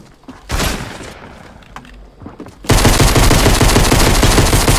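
Pistol gunfire in Fortnite, a few scattered shots early on, then a sudden loud, continuous rattle of rapid firing that fills the second half at close range.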